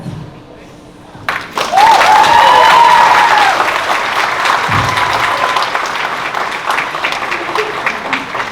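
Loud applause from a crowd at a wedding reception starts abruptly and holds steady, with a few cheers and whistles rising above the clapping early on.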